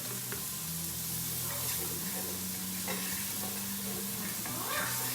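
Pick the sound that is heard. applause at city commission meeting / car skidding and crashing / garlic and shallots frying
garlic and shallots frying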